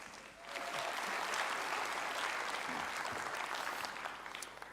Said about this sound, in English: If we give him a big round of applause, everybody.